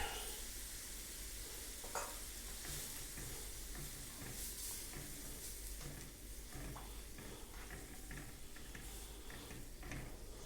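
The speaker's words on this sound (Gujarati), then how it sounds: "હવે થોડીક છાશ નાખીએ એટલે રસાદાર થાય." Mung bean curry with buttermilk just poured in, sizzling and bubbling steadily in a pan with occasional stirring clinks, close and continuous for the whole stretch with no talking.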